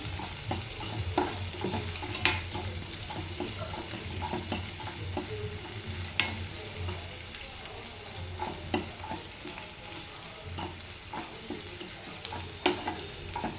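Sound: green chillies frying and being stirred in a pan

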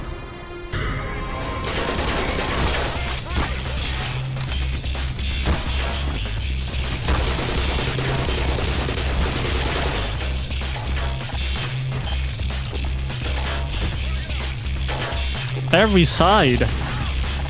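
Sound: gunfire and grenade in the video game Black Mesa

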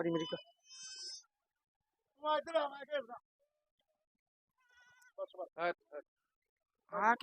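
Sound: goats bleating on a goat farm

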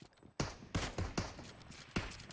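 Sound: Kar98 rifle gunshots in a video game

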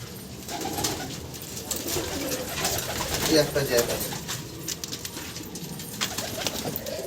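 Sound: roller pigeons cooing

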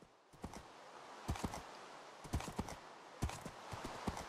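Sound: horse hooves galloping in the video game Minecraft

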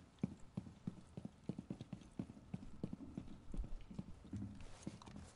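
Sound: footsteps on flooring in a video game

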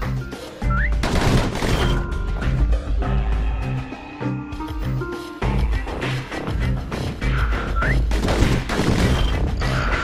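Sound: pistol gunfire in a video game

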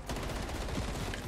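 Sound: gunfire in Call of Duty Zombies video game

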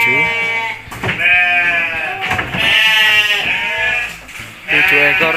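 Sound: Texel sheep bleating

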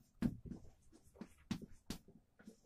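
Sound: writing numerals by hand

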